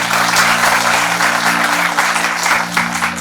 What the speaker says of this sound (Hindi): खुद के लिए तो एक बार तालियां बजाते ही बनता ही है